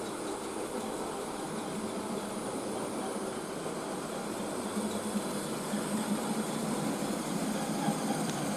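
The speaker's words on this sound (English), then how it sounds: "there are about 40 odd wagons on that, maybe 50. As it goes by, try and count them" A long goods train hauled by a model 9F steam locomotive rolls past at a steady, continuous rumble that swells slightly toward the end, with no voices.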